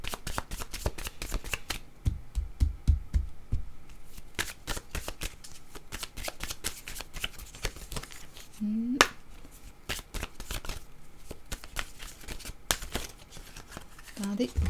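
Playing cards shuffled close up in rapid, crisp riffling bursts that repeat steadily throughout, with brief pauses between runs and a voice speaking over part of it.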